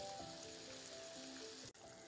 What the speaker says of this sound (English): the gravy is boiling and now it's time to put the eggs in it